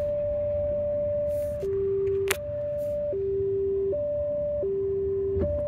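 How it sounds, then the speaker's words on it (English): A VW ID.4 electric car sounds a warning chime while crawling along a rough off-road track, a steady two-pitch beep alternating high and low tones under faint vehicle rumble and a sharp scraping knock. "Car is beeping at me."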